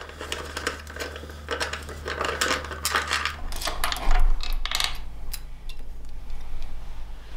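Small metallic clicks, ticks and scrapes come from a 10mm spanner working the four rear fender bolts loose on a 2019 Yamaha Tenere 700. The sounds are close and irregular, with a low rumble underneath.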